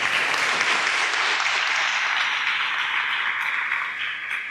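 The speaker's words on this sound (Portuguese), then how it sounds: "Você pode aplaudir?" A church congregation applauds steadily, a dense, even wash of clapping that holds for several seconds before easing slightly at the end, with no talk over it.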